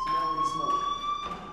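A fire alarm rings in Life Is Strange as a steady, piercing electronic tone that runs throughout, loud and continuous, with muffled voices and ambient school noise underneath.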